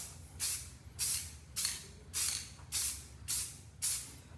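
Spray paint is applied to furniture in light coats: seven short, evenly spaced hissing bursts from a nearby can, each about half a second, with no talking.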